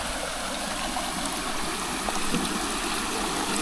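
Clear stream water flows steadily and close by, with a continuous gurgling rush and no voices, beside a Scandinavian trail.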